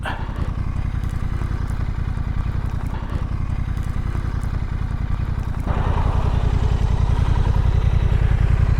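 Honda Rebel 1100 cruiser motorcycle doing a donut: a steady, rapidly pulsing engine drone held at high revs, with the throttle opening up louder partway through, close and continuous with no talk.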